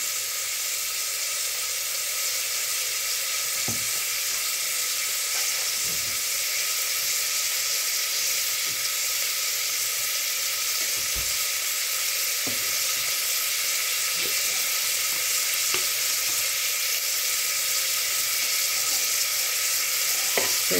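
Soya chunks (meal maker) frying in a pan give a loud, steady sizzle throughout, broken by occasional faint clinks and stirring scrapes.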